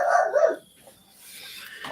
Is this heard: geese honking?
no